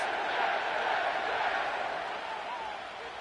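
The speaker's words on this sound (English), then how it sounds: "The crowd is definitely ready." A stadium crowd roars in an EA Sports NFL football video game, a broad sustained wash of cheering that fades slightly toward the end.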